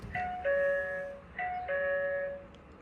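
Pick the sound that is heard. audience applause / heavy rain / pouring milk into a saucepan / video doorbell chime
video doorbell chime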